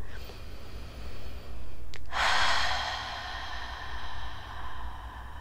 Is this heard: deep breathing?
yes